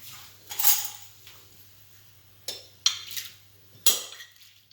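A spoon knocking and clinking against a pot of creamy red lentil and chicken soup, with a soft scrape followed by three or four sharp, close metallic taps spaced apart.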